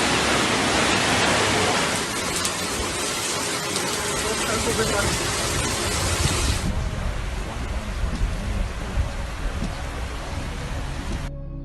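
Floodwater rushes after heavy rains in Oman, a loud, broad, continuous roar of churning water with no clear breaks, dropping in brightness partway through.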